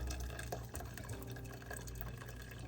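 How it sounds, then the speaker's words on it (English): Juice poured into a cooking pan that already holds about a cup of water, a steady, close liquid splashing and trickling that runs the whole time without pause. "pouring in my juice"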